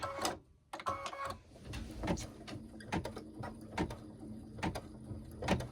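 A home embroidery machine stitches fabric onto a hooped piece for a sewing-pattern gnome body, giving a steady run of rapid, close mechanical needle taps with brief pauses at the start.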